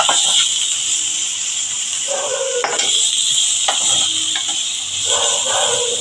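Onions fry lightly in oil for egg chow mein, a steady close hiss of sizzling with occasional stirring scrapes and small clatters against the pan.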